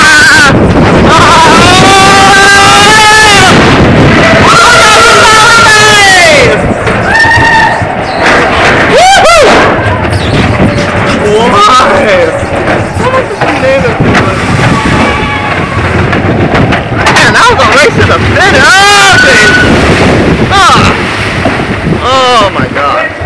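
The Matterhorn Bobsleds roller coaster at Disneyland roars along, loud rushing wind and rumbling track noise dominating, with riders' screams and shouts rising and falling throughout.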